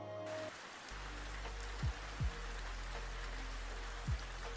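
Recorded rain played as background ambience: a steady wash of falling rain with low tonal pulses and a few soft thumps, continuous and moderately quiet throughout.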